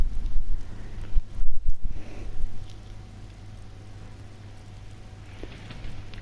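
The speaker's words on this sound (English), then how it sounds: "Now it's raining, so it's snowing, raining, thunder." Rain falling in the Days Gone video game on PS4 Pro, a steady close patter with a few louder drops and a low rumble early on, continuing alone at a moderate level.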